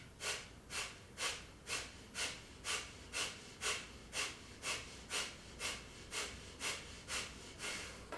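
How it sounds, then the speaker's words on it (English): Forceful yoga exhales push out of the nose in a steady, rapid rhythm, about two per second, a dozen or more strong close puffs repeating evenly and alone. "Pushing all the air out."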